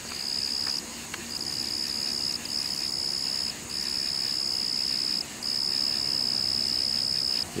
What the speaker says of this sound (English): you can hear all kinds of insects here in the evening time